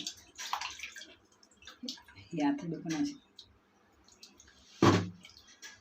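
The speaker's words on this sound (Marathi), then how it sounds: "पाच ते सहा वेळा आपण स्वच्छ पाण्याने धुवून घ्यायचे" Goat intestines are rinsed in clean water in a few separate bursts of splashing and dripping, with quiet pauses between them.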